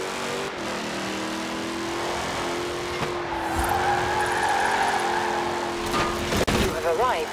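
A car drifts in the video game Forza Horizon 4, its engine droning steadily while tires squeal continuously. Someone talks over the game audio.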